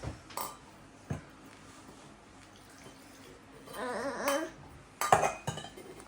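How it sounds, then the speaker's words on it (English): A wooden teaspoon pokes at pickled beetroot in a glass jar, giving a few sparse clinks and soft wet knocks, with a louder cluster of taps near the end, quiet and close. "We can just use like a spoon or something. Okay. Just to poke it a little bit."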